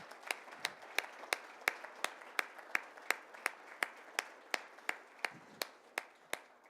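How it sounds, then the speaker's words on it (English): Applause for students at a school Hispanic Heritage Month celebration: a dense wash of clapping hands with steady, evenly spaced louder claps cutting through, continuing at moderate volume without talk. "So I want to give you another round of applause."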